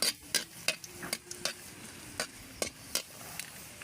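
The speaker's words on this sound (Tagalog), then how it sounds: "So magisa na tayo ng luya." Chopped ginger sautéing in a pan for native chicken in coconut milk, with rapid, irregular scraping and stirring strokes over a soft sizzle, close by and without talk.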